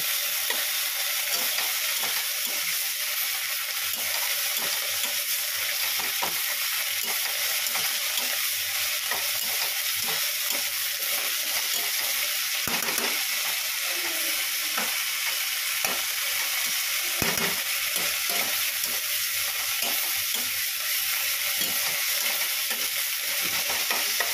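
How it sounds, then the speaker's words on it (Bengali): Leafy greens sizzling steadily in a pan with salt and turmeric, a continuous close hiss broken by repeated scraping and stirring strokes of a spatula. "এবার ভালো করে ভাজা ভাজা করতে হবে একদম"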